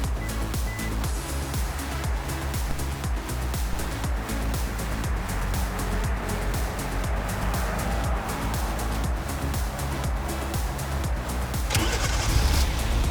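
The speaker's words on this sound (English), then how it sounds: "the car started" A Hyundai Azera's engine, started by remote starter, rumbles steadily nearby, a continuous low droning hum that holds for the whole stretch with no talking.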